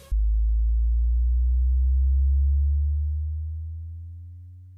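Synth sub bass holding one loud, steady low tone alone while a high-pass filter sweep gradually thins it, the low end fading out toward the end.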